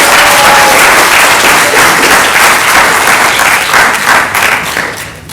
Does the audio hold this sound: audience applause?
yes